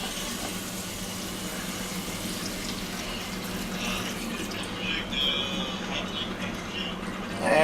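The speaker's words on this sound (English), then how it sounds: "we're going to toss in some liquid" Liquid poured into a pan of pork fingers in brown gravy, giving a continuous loud, close gushing and bubbling that swells slightly near the end, with no talk over it.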